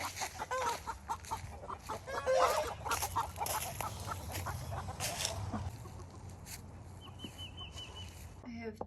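Two broody hens sitting on a shared nest of eggs in a backyard flock give low, repeated clucks, with other chickens and roosters calling around them under steady outdoor background noise.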